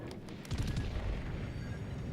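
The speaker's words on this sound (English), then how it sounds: "Based on the sheer amount of gunfire that I'm taking, this is probably the Helena off to my right." Heavy naval gunfire strikes a ship in a video game naval battle, a dull boom followed by a sustained low roar and crackle of impacts, fairly loud and without talk.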